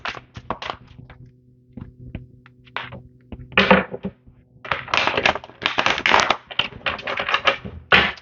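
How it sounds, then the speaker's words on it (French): Tarot cards being handled and shuffled during a psychic reading, giving bursts of crisp tapping, slapping and riffling with short pauses between them, close and fairly loud, with no talk. "Je vais prendre les cartes."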